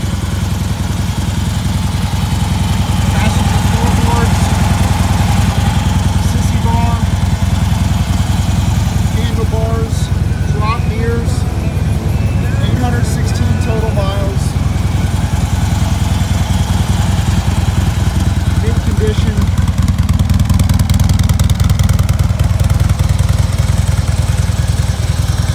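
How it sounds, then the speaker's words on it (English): A 2016 Harley-Davidson Street Glide Special idles with a steady, loud, low engine rumble throughout, with a few faint clatters over the drone. "2016 Harley-Davidson Street Glide Special."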